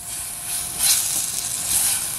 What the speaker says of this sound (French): Je rajoute la farine.